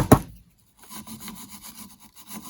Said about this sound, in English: get kind of cleaned up with the cardboard so we don't get rust back in it